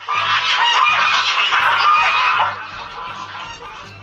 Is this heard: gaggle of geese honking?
yes